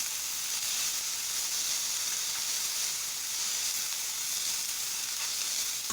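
Chopped onion sautéing with baby corn and cabbage for vegetable spring roll filling, an even, loud hissing sizzle that holds steady without pause.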